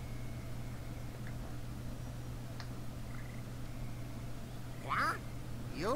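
Ducks quack in the Open Season PS2 game, a short burst of brief nasal calls near the end over a constant low game hum, with a few faint clicks earlier.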